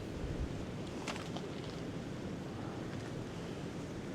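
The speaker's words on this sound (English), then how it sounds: "So look at the water coming down." Winter creek water pours steadily past an icy nature-preserve trail, a constant broadband rush close to the microphone with faint wind, no voices.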